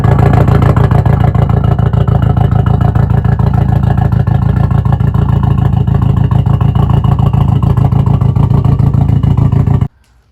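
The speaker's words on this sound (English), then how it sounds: "This is a cool engine. It sounds awesome." A VW 1.8T four-cylinder engine in a B5 Passat, loud and close, with a steady, gritty mid-range drone and exhaust rasp holding at a constant pitch for about ten seconds before cutting off abruptly.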